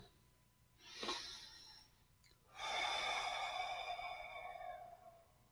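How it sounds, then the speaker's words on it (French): Slow deep breathing during a guided relaxation exercise, a sharp inhale followed by a long, steady, close exhale in a quiet room. "Faites-moi une belle respiration."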